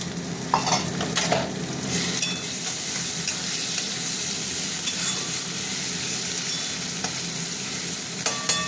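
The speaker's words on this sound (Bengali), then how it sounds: "এবার আমি চিংড়ি মাছটা দিয়ে দিলাম।" Prawns fry with onions in an oiled pan, producing a continuous sizzle broken by frequent scraping and clattering as a spatula stirs them.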